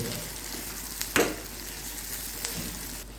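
Tomatoes and turmeric cook in a pan for kichidi, a constant soft sizzle with a single louder stir-scrape near the middle.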